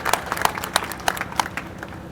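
A political rally crowd at a village gathering in Kurukshetra, Haryana, claps to welcome a new party member, with sharp, scattered handclaps ringing out close by at an uneven rhythm.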